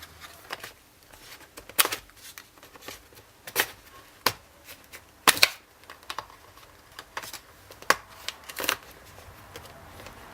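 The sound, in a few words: prying off laptop part with a credit card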